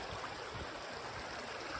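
Mount Doug Creek flows as a steady, soft rush of water through a meandering bed, a constant quiet burble with no breaks or voices.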